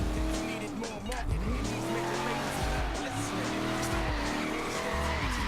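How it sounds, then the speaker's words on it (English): A car drifts in Forza Horizon 3, with a loud engine revving up and down and tires squealing in long sliding bursts, and a person talking over the game sounds. "this thing's brilliant at drifting"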